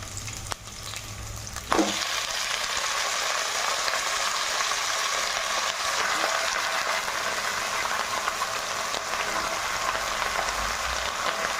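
Chopped pumpkin and Malabar spinach tip into a hot pan over browned onion and begin a loud, steady sizzle that holds unbroken, with a brief clatter as they go in.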